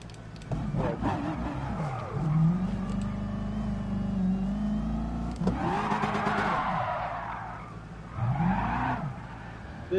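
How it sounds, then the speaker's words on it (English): A Ferrari race car in the GT Sport video game revs and accelerates through gear changes, its engine whine rising and falling with brief tire squeal, loud and close. "It's a Ferrari. Incoming Ferrari."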